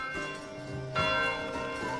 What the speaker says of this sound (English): Church bells are ringing.